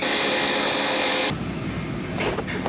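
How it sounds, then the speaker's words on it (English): Old bushings being ground down in an outback workshop at Mt Dare Hotel: a loud, steady, hissing grind for just over a second, then a duller, rougher scraping rumble. "Just need to grind it down now"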